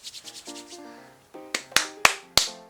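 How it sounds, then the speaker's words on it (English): Hair styling product rubbed between the palms, giving a few soft quick rubbing swishes followed by several sharp slapping pats of the hands, close and fairly quiet, with no talking. "So I've just rubbed it in my hands, and you just put it in your hair."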